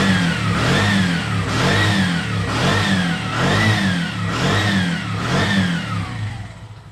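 A fuel-injected Bajaj RE 200 engine runs close by, revved repeatedly in a steady rhythm of rising and falling pulls, about six blips over seven seconds before easing off, loud and gruff with no talking.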